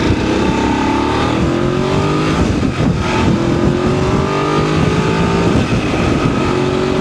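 A Voge 900 DSX motorcycle accelerates hard in traffic, its engine note climbing steadily as the throttle opens, loud and close throughout.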